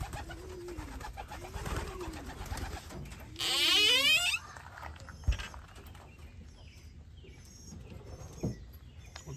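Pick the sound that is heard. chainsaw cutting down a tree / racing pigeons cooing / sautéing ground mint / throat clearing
racing pigeons cooing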